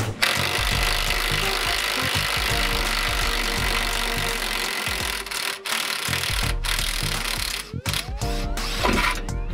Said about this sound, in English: So now we are loosening the lower control arm on the other side.